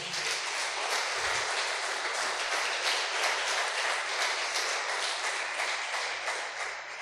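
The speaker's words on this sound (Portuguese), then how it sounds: "Dê um forte aplauso ao Senhor." A church congregation applauding, a long dense wash of clapping that stays fairly even and moderately distant throughout.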